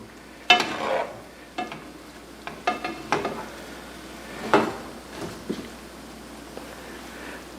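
Egg mixture is beaten after hot liquid from the pan is added, with a few sharp clinks and quick whisking scrapes against a bowl over a low background hiss, loudest early on and then easing off.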